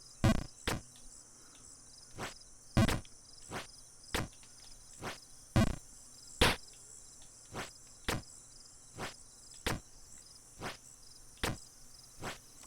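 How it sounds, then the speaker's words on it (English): Crickets chirp in Jump King, a constant high trill in the background punctuated by repeated sharp ticking hits at an uneven pace, with no talking. "so I don't have to hear these crickets."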